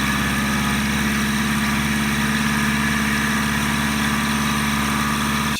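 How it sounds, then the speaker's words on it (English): A Model 6450 mini mill cutting as the work feeds into the cutter: a loud, steady motor drone with a rapid, even periodic chatter running continuously throughout, no voices. "as I turn the X-axis hand wheel, the work is moving to the left and into the cutter"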